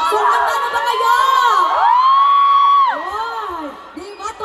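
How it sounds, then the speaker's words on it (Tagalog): A crowd of fans at a concert at Market Market screams and cheers loudly and continuously, high shrieking voices rising and falling close by, easing briefly near the end before swelling again. "di ba todo sigawan na talaga?"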